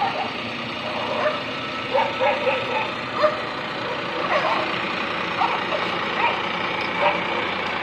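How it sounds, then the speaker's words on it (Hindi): Dogs fighting on a farm, snarling, barking and yelping in overlapping bursts over a steady background drone like an idling engine, moderately loud throughout. "फाइट तो हो गई कुत्तों की।"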